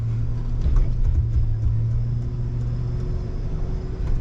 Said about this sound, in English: You can hear the system working there with the brakes, trying to send power to the wheel that is getting traction.